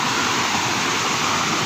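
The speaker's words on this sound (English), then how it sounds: "It's a very nice place beside the waterfall." A small mini waterfall, heard as a steady, dense rush of falling water that stays constant and fairly close throughout the short stretch, with no other sounds.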